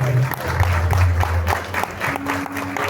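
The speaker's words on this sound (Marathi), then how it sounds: "खरं या साईनाथ भजन मंडळासाठी एकदा जोरदार टाळ्या वाजवा" An audience claps for a Sainath bhajan group at a devotional music programme, a dense burst of applause lasting a few seconds, with a faint hum of voices running underneath.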